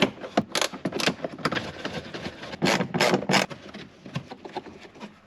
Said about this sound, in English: These here behind the panel, I'm gonna take off with a little ratcheting wrench.